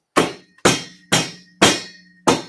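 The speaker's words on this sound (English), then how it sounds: "Or you can just take a hammer." A hammer strikes drywall five times in a steady rhythm to knock it off the screws during a basement rebuild, each blow a sharp, close thud with a short ringing tail and no talk.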